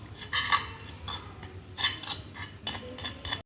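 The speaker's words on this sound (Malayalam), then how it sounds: "കുറച്ച് മുളക് പൊടി ഇതെല്ലാം കൂടി ഒന്ന് മിക്സ് ചെയ്യാം" A spoon stirring a chili powder spice mix in a metal bowl, making bright clinks and scrapes in short bursts of several strokes, close and clear with no talking.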